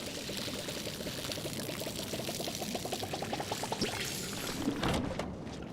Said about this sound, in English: Watering the plants. My watering can is empty.